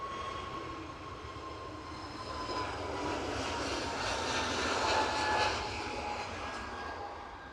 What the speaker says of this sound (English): EasyJet taking off.